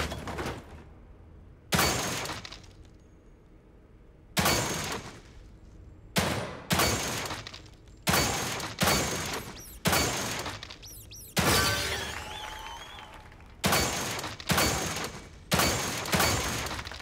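Gunshots at a shooting gallery in the survival horror game The Evil Within 2 crack out one by one, about a dozen sharp, loud reports spaced a second or two apart, each ringing briefly before fading, with no voices.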